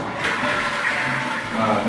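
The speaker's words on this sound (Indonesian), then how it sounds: "Kencang sekali airnya." Strong water gushes from a tap in a villa bathroom, a steady loud rushing flow close by that holds level throughout.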